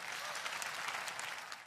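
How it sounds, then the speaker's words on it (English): A church congregation breaks into applause, a short burst of dense crowd clapping heard at a moderate distance that fades out within two seconds. "Clap for Jesus."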